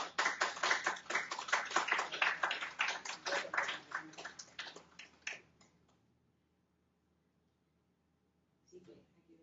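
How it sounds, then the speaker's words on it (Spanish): Warm applause from the audience at a radiology teaching session on LI-RADS, honoring a doctor: several seconds of brisk, fairly close clapping that thins and dies out, followed by quiet and a brief voice near the end. "vamos a brindarle un caluroso aplauso."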